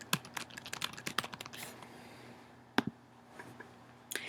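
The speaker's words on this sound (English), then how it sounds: "You can type in any type of keyword that you can think of, so go ahead and do that now." A search keyword being typed on a computer keyboard: quick bursts of crisp key clicks, a busy run at first, then sparse single taps after a pause, close and fairly quiet.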